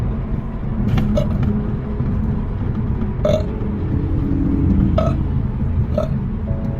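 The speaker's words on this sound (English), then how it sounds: "So I'm making myself burp." A person deliberately forces out several short, near burps one after another, spaced irregularly over a steady low rumble like a car engine or road noise.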